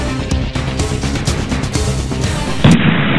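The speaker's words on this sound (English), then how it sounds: "You shot me in the foot!" Loud, dense gunfire and booming impacts from the Serious Sam first-person shooter, a continuous barrage of overlapping shots and blasts that ends in a sudden heavy bang.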